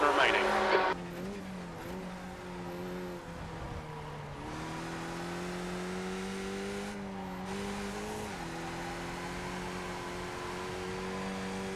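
A race car screams through a 2008 Daytona race in a video game, its engine holding a steady high drone with gear shifts and brief tire squeal from worn, overheated tires, continuous and loud throughout.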